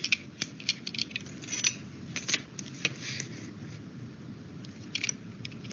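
Craft knife cutting a window in a paper model, a quiet run of small crisp scraping and clicking cuts in an irregular rhythm, close up, with no voices.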